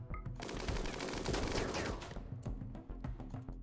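Rapid bursts of video game gunfire in Rimworld, machine-gun style fusillades crackling continuously and fairly loud for several seconds with no talk over them.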